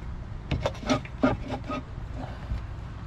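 A stainless steel plate is pushed into position beneath a slide-rail roller, giving a quick series of scraping, rubbing strokes up close before settling into a quieter rasp.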